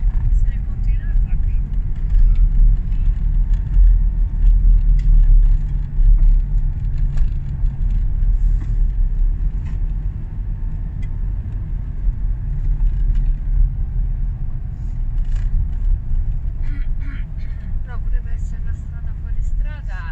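A car drives off-road through a rocky wadi in Oman, its engine a steady low rumble with bumps and rattles throughout, while people talk over the noise inside the vehicle.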